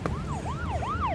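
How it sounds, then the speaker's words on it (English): Police siren wailing in a rising and falling yelp, loud and close, with no voices over it. "We hear sirens as King Batch gets out of the car"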